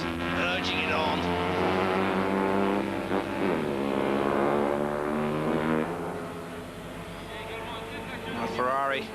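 Vintage Panhard racing cars lapping the Montlhéry circuit near Paris at a historic race, engines droning and revving loudly and steadily throughout, with a commentator talking over them.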